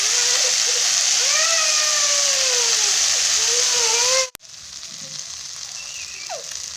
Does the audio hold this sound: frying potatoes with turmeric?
yes